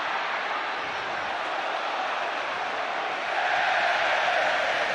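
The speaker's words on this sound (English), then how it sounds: "Huge cheer as the throw-in is given Tottenham's way" Big crowd at a Premier League football match between Tottenham Hotspur and Reading, a broad roar of cheering that swells noticeably partway through as a throw-in goes to Tottenham.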